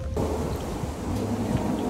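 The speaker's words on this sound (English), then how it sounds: "it's real windy" Wind rushes and buffets steadily, a low blustery roar filling the brief moment with no voices.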